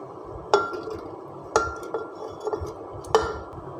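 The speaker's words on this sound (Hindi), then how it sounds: "कैरी को हम अपनी ब्लेंडर मशीन में शिफ्ट कर लेते हैं।" Small pieces of raw mango drop into a blender jar with three sharp glassy clinks and a few lighter taps, heard close in a kitchen with no talk.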